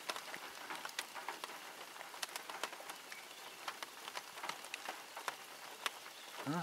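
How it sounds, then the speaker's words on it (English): Continuous rain pattering on a hard surface nearby, with scattered sharper drops ticking through a steady hiss. "It's raining."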